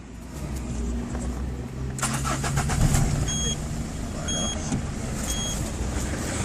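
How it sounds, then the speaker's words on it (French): A Peugeot 206 2.0 HDi 90 diesel engine cranks and settles into a steady, loud idle close by, with a brief spoken word over the running engine. "Alors je vais démarrer le moteur."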